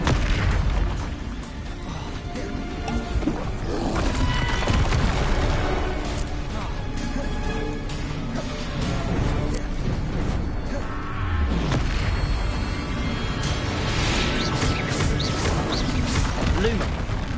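Bombarda spell explosions in the Hogwarts Legacy video game, dense repeated booms and crashes under a continuous loud game soundtrack with combat noise throughout.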